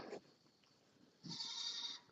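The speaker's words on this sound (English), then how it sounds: "Goats, yes, all these are goats." Goats and baby goats on a livestock farm, with a brief low bleat and then a longer, higher, nasal bleat, faint and somewhat distant against quiet background noise.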